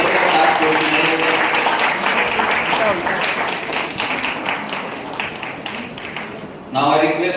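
An audience applauds at an award ceremony, with dense, steady clapping from many hands filling the room and slowly thinning out, while a voice speaks over it near the end.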